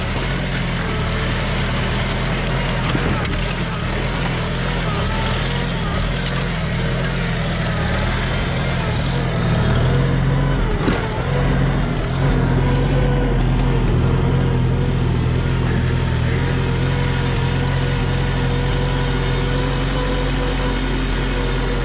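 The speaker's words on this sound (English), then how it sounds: "So far, this engine's running perfect." A Farmall Super C tractor engine runs at a steady idle outdoors on rocky ground, a loud continuous low rumble and chug that stays even for the whole stretch.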